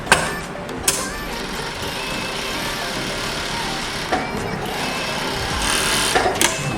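An overlock serger runs a test seam with its tension being adjusted, giving a steady, close mechanical whir with a few brief clicks and handling knocks along the way.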